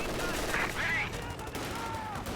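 Machine gun fire in a Company of Heroes 2 1v1 match, heard as a continuous dense rattle of gunfire mixed with game battle noise across the whole stretch.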